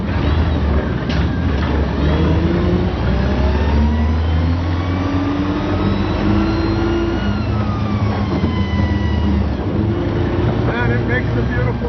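The 16-liter, 24-plug engine of a 1917 La Bestioni Batmobile rumbles loudly and revs up and down in rising and falling sweeps, with someone talking over it.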